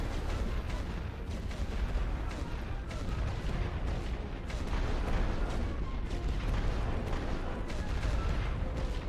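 Artillery fire from a Western Front trench battle in The Great War: Western Front, heard as a steady rumbling barrage of distant booms that roll and overlap for several seconds at low volume.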